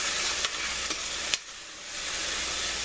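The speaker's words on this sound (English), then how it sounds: "Once this gets to sizzling good, I'm going to turn my heat down to medium." Onions fry in a pan for creamed spinach with pasta, giving a steady soft sizzle with a few brief clinks or scrapes of stirring, fairly quiet and close.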